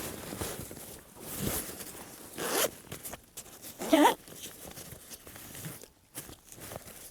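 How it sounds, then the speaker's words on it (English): A long zipper on the lid of a Kantamus 60L military backpack pulled open in a few rasping strokes, close and moderately loud, with small handling rustles around it. "We have a long zipper here"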